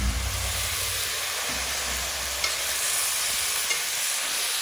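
Meat hisses and sizzles steadily in a hot pan while being stirred, a continuous close frying noise with occasional scraping clicks, cooked in a Nepali village kitchen.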